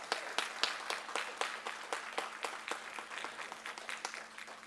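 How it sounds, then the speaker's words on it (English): Audience at a school board of education meeting applauds students being honored, a steady crowd of many hands clapping with distinct sharp claps, moderately loud and slowly fading, no talking. "Please give them a round of applause."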